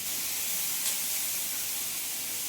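Moringa leaves frying in a pan with tomato and green chili, giving a steady soft sizzling hiss throughout, fairly quiet and unbroken, with no talking.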